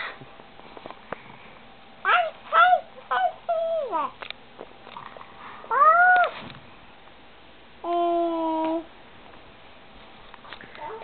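Several short cat meows, some rising and falling, spaced irregularly, with a longer drawn-out meow near the end over quiet background noise.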